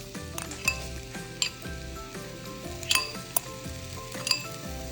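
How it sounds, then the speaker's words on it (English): Chili flakes, ginger, garlic and onions fry in a pan with a continuous close sizzle, and a spoon clinks and scrapes against the metal several times while they are stirred. "Just want to fry these until they're golden brown."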